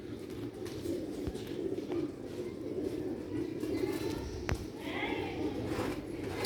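Sialkoti Batera pigeons in Sialkot give soft, low, repeated cooing over a muffled background, with a few faint knocks and chirps.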